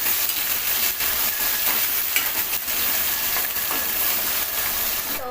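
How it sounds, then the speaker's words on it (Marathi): Finely chopped tomato sautés in hot oil with a continuous bright hiss and crackle, broken by occasional scraping stirs. "टॉमॅटो तेलामध्ये मऊ होईपर्यंत आपण परतून घ्यायचं"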